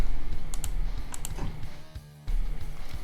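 Keys clatter on a computer keyboard during a Rising Star 2 game session, a quick run of close, crisp clicks with a brief pause near the end before the tapping resumes.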